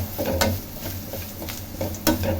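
Grated coconut and cashews fry in a pan with steady close sizzling, while a spoon stirs and scrapes in repeated strokes, a few of them sharper clanks against the metal.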